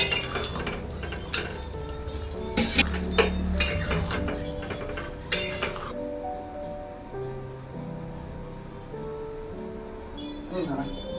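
Spoon clinking and scraping in a pot as garam masala paste is stirred into an aloo and masoor dal bora curry, irregular metallic taps over tonal background music.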